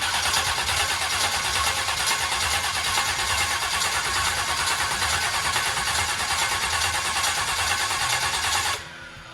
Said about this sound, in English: make sure you crank it and see if you can get like oil pressure